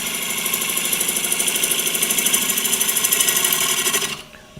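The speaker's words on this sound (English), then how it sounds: "We'll do a nice little push cut through there." Woodturning lathe making a push cut, a loud, close, steady whirring drone with fast rhythmic pulsing from the spinning workpiece, cutting off sharply near the end.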